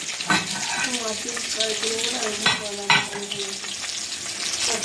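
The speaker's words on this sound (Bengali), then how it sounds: "ওখানে মাছ ভাজা হচ্ছে" Fish frying in a pan in a busy home kitchen: a loud, steady sizzle with a few sharper spits and bursts, while faint voices hum in the background.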